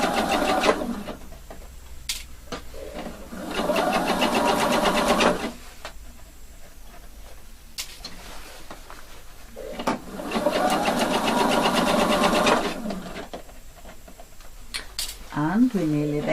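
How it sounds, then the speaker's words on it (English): Sewing machine stitching a facing onto a round neckline: two sustained runs of fast, even mechanical whirring, close and loud, separated by quieter stretches with someone talking and brief handling clicks. "Let the machine do the work"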